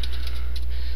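Fast typing on a computer keyboard, a quick run of light key clicks close up over a steady low hum, with no voices.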